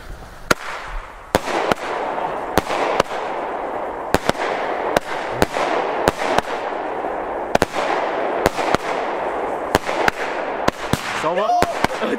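An Xplode Grip firework battery fires a steady run of loud, sharp bangs at irregular intervals over a rushing, crackling background, while people talk underneath.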